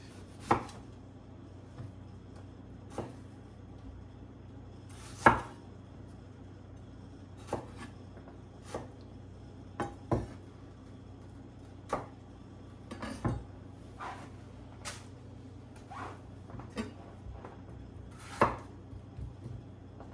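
A knife cuts tomatoes in half for guacamole, giving sparse, irregular knocks and taps on a cutting board at close range in a quiet kitchen.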